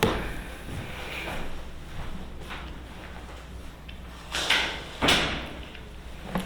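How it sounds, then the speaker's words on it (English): A door is pushed shut with a couple of soft thuds and a brief latch click, close by, against a low room hum. "let me close the door here"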